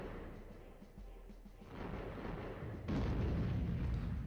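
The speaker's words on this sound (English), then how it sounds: "I love that explosion sound." Explosions in the naval game StormWinds, set off by mines near a small boat, make a rumbling roar that swells and then jumps into a louder, sustained boom with a dense low-end oomph.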